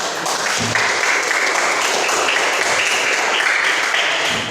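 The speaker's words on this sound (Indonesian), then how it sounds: "kalau sepakat tepuk tangan" Audience applause at a teachers' training module presentation, dense and loud clapping held steadily throughout without a break.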